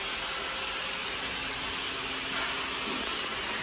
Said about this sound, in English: For toothpick filling machine, it is for filling the toothpicks in the bottles,